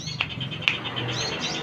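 A magpie robin (murai) gives a couple of short, sharp chirps against faint background noise, with no talk.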